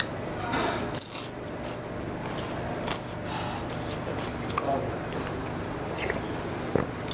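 Homemade fried dumplings being eaten at a Chinese restaurant, with soft chewing and squishing close to the mic over a steady room background and occasional light clinks.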